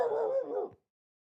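A single dog bark or yelp with a whimpering tail, close and fairly loud, lasting under a second before silence.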